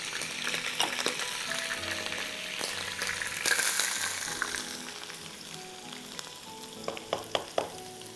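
Chopped onions fry in butter and oil in a pot, giving a continuous close sizzle with occasional stirring clinks and scrapes, no voices present.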